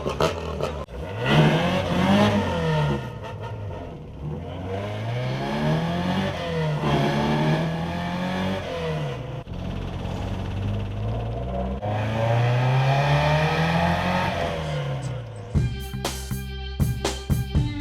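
A Ford Escort MK2 engine catches after a push start, then runs and drives. It revs up and down repeatedly with rising and falling engine tones, and a clattering rattle comes in toward the end.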